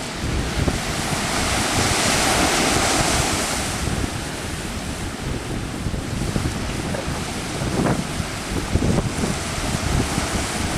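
Ocean waves at Lanikai Beach, Hawaii, wash in with a steady, broad surf roar alongside wind buffeting the microphone, while a sailboat moves nearby; the water noise stays continuous and close throughout with no talking.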